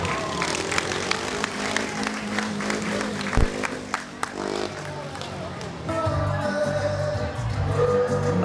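A speedway stadium crowd in Coventry applauds and cheers steadily, with scattered sharp claps over a continuous roar, while a voice talks over it.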